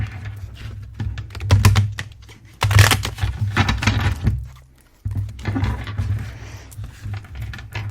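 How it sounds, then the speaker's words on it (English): A new, still-slippery tarot deck is shuffled close up, giving bursts of crisp riffling and card clicks with a short pause midway and soft thumps as the cards settle. "Let me shuffle the cards."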